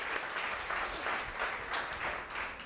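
Church congregation at a Sunday worship service clapping in steady, even applause for a few seconds, moderately distant and unbroken, with no voices over it.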